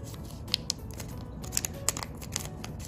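Paper being folded by hand for an origami goose, with a few crisp crinkles and sharp creasing ticks scattered over a soft, steady rustle, close and quiet, with no talking.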